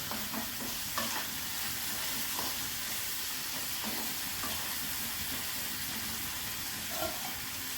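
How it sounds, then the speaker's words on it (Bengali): Bitter gourd fries in a pan with salt and turmeric, giving a quiet, steady sizzle broken by occasional soft clicks and scrapes of stirring. "উচ্ছেটা ভাজা হয়ে গেছে"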